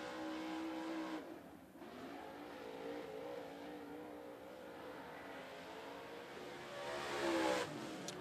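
A limited late model race car laps 411 Motor Speedway at the Fall Brawl, its engine rising and fading faintly in the distance as it sweeps past, with a second surge late in the lap.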